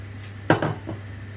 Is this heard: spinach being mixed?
yes